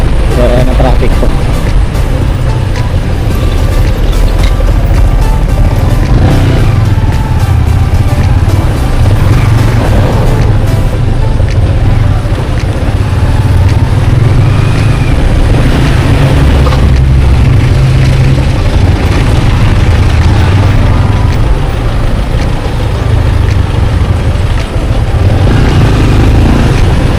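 Heavy road traffic on Kennon Road in Baguio City, with a steady low rumble of car and motorcycle engines passing close by, occasional louder engine swells and bumps, and voices talking over it throughout.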